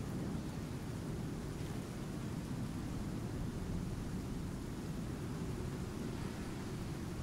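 In the game Icarus, a thunderstorm produces an unbroken wash of heavy rain and low rumbling thunder, steady and moderately loud for the whole stretch with no voices.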